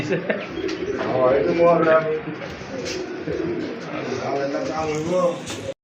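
Soft, repeated throaty cooing of pigeons close by, overlapping calls rising and falling through the clip.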